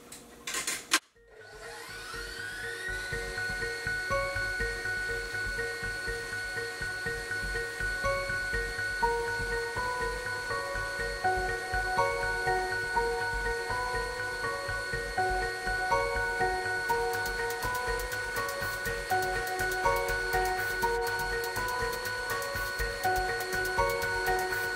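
An electric mixer whirs steadily for the whole stretch, beating sugar into stiff egg whites for sponge cake. A sharp knock starts it, then a loud, even motor drone continues unbroken.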